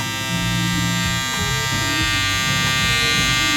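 Electric hair clippers buzz steadily and close while cutting a taper fade, a constant bright hum with slight shifts in tone as the blades glide over the hair.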